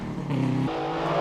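A Subaru rally car engine passes close by, a loud, brief roar whose pitch drops as the car goes past.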